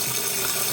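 Water sputters and hisses out of a corroded copper pipe near salty ocean air, a loud continuous rushing spray with no pause.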